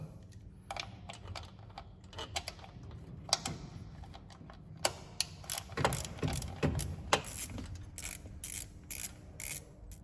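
Small screws being worked loose from the distributor cap of a 1999 Maruti Zen, giving a run of light metallic clicks and ratcheting ticks at close range, irregular and quiet, with no talking.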